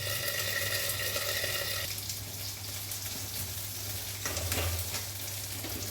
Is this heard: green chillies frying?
yes